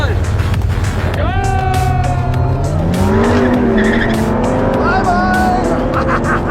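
Drag race cars launching from the start line, with loud engine roar, revving that climbs in pitch, and squealing tires, all close and continuous.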